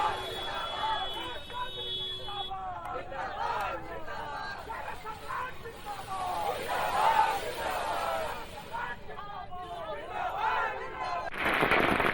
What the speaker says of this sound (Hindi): भाजपा नेता और कार्यकर्ताओं ने आतिशबाजी कर अपनी खुशी का इजहार किया।